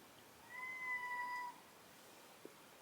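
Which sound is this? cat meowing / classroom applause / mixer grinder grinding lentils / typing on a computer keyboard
cat meowing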